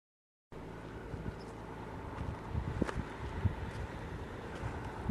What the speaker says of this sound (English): It's a hot, dry wind now.